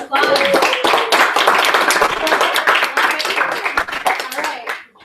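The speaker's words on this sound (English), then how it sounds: "Let's give Nadia a round of applause." An audience gives a round of applause: brisk, dense clapping from a nearby crowd that starts at once, holds steady for several seconds, then fades out.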